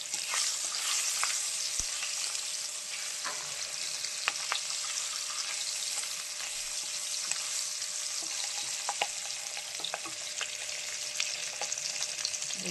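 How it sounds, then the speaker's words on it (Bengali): Chopped potatoes fry in hot oil in a pan, with a steady, close bright sizzle and occasional pops and stirring clinks that continue for the whole stretch, with no talking. "এবার আমি পোটাটা দিয়ে দেবো ওর মধ্যে, ভালো করে ভেজে নেবো আগে"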